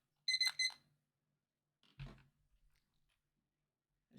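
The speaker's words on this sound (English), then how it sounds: "And there goes my timer." A timer alarm goes off in the video game Wurm Unlimited as a quick burst of a few sharp electronic beeps, followed by faint clicks and a soft thud in near silence.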